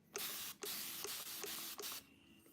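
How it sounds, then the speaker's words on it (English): Water sprayed from a spray bottle onto hair during a wash-and-go styling routine: five quick, close hissing bursts in a steady rhythm, each about a third of a second, with no talking. "spray water"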